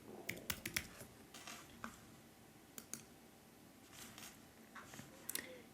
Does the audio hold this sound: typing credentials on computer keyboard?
yes